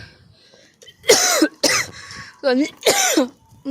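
A person coughs repeatedly while visiting a memorial park, with four harsh, throaty bursts in quick succession, close and loud against quiet surroundings.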